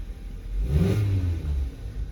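Engine of a 2019 Ford Transit passenger and cargo van with 145,000 miles, running during a test drive, a low steady hum that swells briefly as it revs and then settles.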